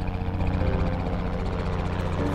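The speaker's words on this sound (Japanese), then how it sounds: "ちょっと今ヘリコプターが飛んでいるので音があれかもしれませんが" A steady, low rotor-like drone of a helicopter passing overhead, moderately faint and continuous with a rhythmic pulsing throughout.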